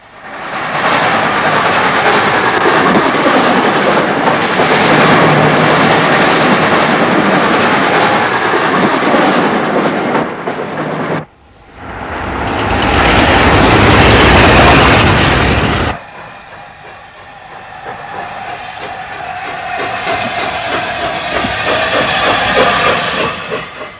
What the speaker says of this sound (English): In the Hadley Wood area, the main line was being widened. It's a nice place to watch trains go by.